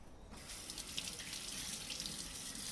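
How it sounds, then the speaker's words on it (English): A kitchen tap runs steadily as hands are rinsed after tossing salted meat, a close, continuous hiss of flowing water with no talking. "So wash my hand again"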